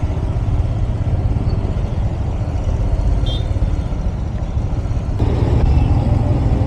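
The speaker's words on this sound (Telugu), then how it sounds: "traffic traffic traffic" Dense road traffic in Hyderabad's Hi-tech City financial district at night, a continuous low rumble of cars, trucks and buses idling and creeping along, swelling slightly near the end.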